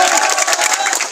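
A crowd bursting into loud, dense applause and cheering, a brief close burst of many hands clapping together.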